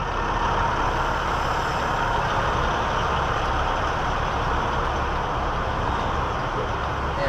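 Truck engine idling steadily while dragging a trailer, a continuous low broadband rumble mixed with wind and road-like noise, loud and unbroken throughout.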